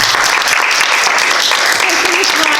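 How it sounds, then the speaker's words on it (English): Steady audience applause for a musician and storyteller after a talk on Kansas music history, a small crowd clapping continuously and fairly loud throughout, with a voice briefly audible in the middle of it. "Let's give him a good round of applause"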